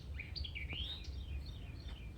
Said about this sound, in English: these birds are just singing up something